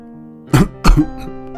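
A man gives two short, sharp coughs in quick succession, close and fairly loud, against a faint background hum.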